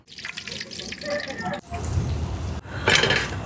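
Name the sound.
washing vegetables and tomatoes in water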